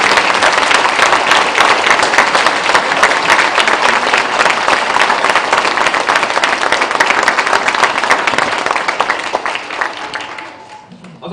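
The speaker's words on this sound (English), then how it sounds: "I want to take a moment here today to give them a round of applause and welcome them home." Round of applause for Vietnam veterans at a Wreaths Across America ceremony at Goff School, a large crowd clapping steadily and loudly for about ten seconds before fading out.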